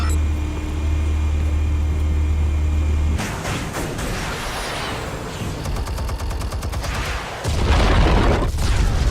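Armed explosives go off in the video game Batman: The Telltale Series, first a deep low hum and then a sudden blast with crackling debris and rapid rattling bursts, closing on another heavy rumbling boom.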